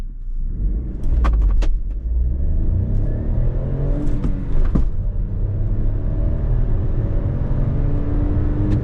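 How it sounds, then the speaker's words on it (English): A Vauxhall Grandland X engine revs hard and climbs in pitch as the car accelerates quickly from first gear, a loud rumbling drone heard from inside, with a few faint clicks early on. "let's try to accelerate quickly in this car"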